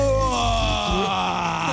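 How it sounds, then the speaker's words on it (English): A person's yawn played back on a screen: a single loud, drawn-out, groaning exhale whose pitch slowly falls over nearly two seconds. "Do you want to see yourself yawning?"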